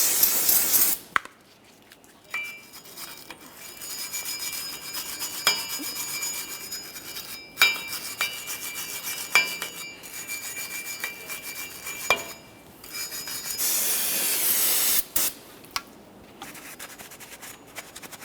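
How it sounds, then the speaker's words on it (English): A wire brush scrubs the wheel hub mating surface on a 2004-2008 Ford F-150 during a steering knuckle replacement, giving steady close rasping strokes with brief pauses and a few sharp metallic clicks. "You can clean this down using some parts cleaner and a wire brush if necessary."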